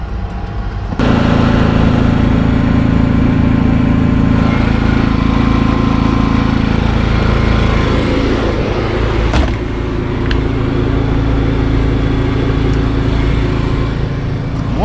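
A generator at a foggy boondocking RV campsite drones loud and steady after starting up abruptly near the beginning, its low hum persisting with small fluctuations and no speech.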